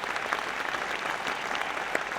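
Audience applauding at a business awards ceremony in Loiret, France, a dense, steady patter of many hands clapping that continues throughout without letting up.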